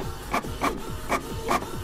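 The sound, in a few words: mini printer printing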